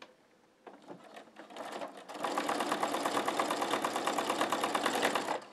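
Sewing machine stitching straight through several layers of chenille fabric, starting with a few slower bursts, then settling into a steady, fast, close mechanical whirring rhythm that runs to the end with no talking.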